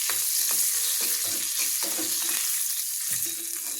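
Curry leaves sizzle in hot oil as tempering for an okra chutney, a close, steady crackling hiss broken by several soft scrapes of stirring.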